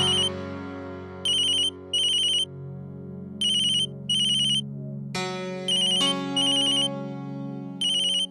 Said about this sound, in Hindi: तो उठा लेना फोन, बेचारा कब से बजा जा रहा है।